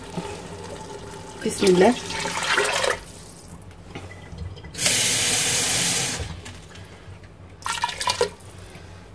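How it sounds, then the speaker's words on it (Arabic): Hot water poured into a cooking pot of white beans, a loud rushing pour lasting over a second in the middle, with brief splashing and kitchen clatter around it and a short spoken phrase. "وغادي ندير الماء السخن"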